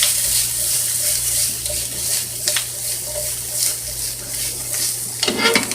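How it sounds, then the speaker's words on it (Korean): Onion and mushrooms stir-fried in a pan for a cream pasta, with steady sizzling and scraping stirring sounds, close and fairly loud, with no talking. "버섯을 넣어주시고 신나게 볶아주면 됩니다."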